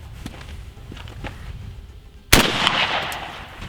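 A shotgun fires a reloaded Remington American shotshell outdoors, one sharp loud blast partway through, followed by a ringing, noisy tail after quieter background sounds.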